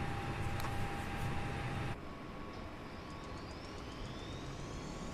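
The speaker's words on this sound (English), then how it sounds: "So the APU fired up as we watch the cargo get loaded." APU starting on a Headwind A330-900neo in Microsoft Flight Simulator, a steady turbine roar with a rising whine that climbs in pitch after a brief shift in tone, continuous and moderately loud with no talk.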